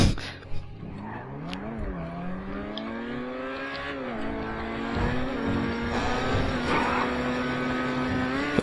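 A car driving in the GTA 5 video game, engine note steadily climbing and shifting through gears with occasional tire noise, close and continuous under intermittent talk.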